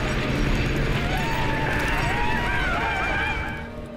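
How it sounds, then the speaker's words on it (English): Real horses charging at full gallop outdoors for a film scene, a loud dense rumble of hooves with a continuous roar throughout and faint whinny-like tones, fading slightly at the end. "We wanted real horses and the energy you have from horses at full gallop"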